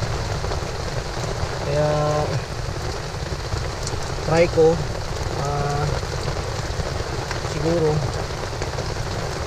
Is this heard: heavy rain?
yes